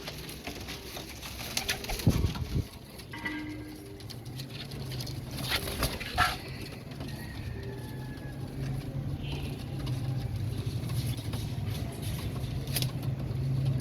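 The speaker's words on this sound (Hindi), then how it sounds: "नईम भट्टी साहब के घर के कबूतर माशाल्लाह से" Domestic pigeons in a home loft coo softly amid steady fluttering and shuffling patter, a close, continuous rustle with low murmuring calls and no talk.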